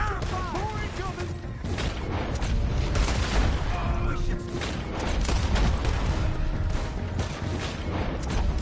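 Gunfire in Red Dead Redemption II during a chase, dense booming shots and bursts over rumbling action, with game voices shouting throughout.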